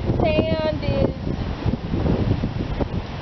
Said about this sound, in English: it's really, really windy out here